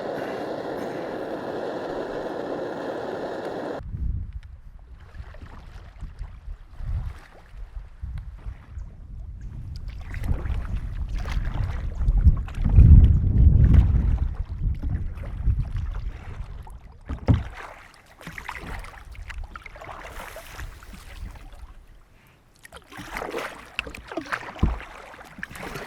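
A small boat is paddled on the Kilmarnock Deadwater, with rhythmic paddle strokes and water splashing close by amid wind and gentle rumble, after a brief burst of noise at the start.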